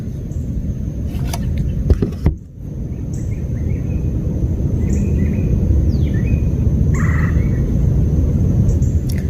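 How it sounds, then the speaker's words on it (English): Chirping birds and buzzing insects at a plantation, scattered calls and a high steady insect whine over loud low rumbling background noise, fairly close, with no talking. "There's a lot of noises like birds and insects."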